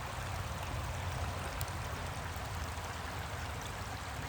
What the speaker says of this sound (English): You can hear the water running.